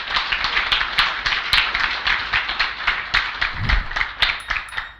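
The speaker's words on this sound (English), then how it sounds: "Big round of applause, please." A conference audience applauds at the end of a technical talk, a steady patter of many hands clapping continuously at close to moderate distance, with no speech over it.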